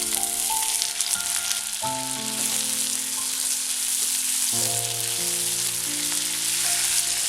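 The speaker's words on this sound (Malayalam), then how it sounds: "സവാള വഴന്നു വന്നിട്ടുണ്ട്. ഇനി ഇതിലേക്ക് അരിഞ്ഞു വെച്ചേക്കുന്ന തക്കാളി ചേർക്കാം." Chopped tomatoes frying with sautéed onions in a pan, a steady close sizzle with occasional stirring, continuous throughout and no talk.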